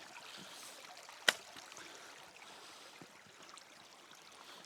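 A river flows over rocks in a forest setting, a soft, continuous trickle and gurgle at low level, broken once by a single sharp knock or click.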